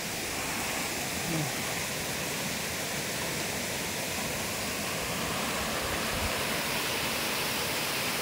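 Arangin Falls near Baliti pours with a constant broadband roar of rushing water, steady and enveloping from start to finish with no clear breaks.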